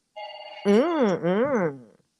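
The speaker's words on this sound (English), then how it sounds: "Sorry for the phone here." A telephone rings indoors in a craft room, a loud close electronic warbling tone in two long bursts with a softer lead-in, then quiet; no one talks over it.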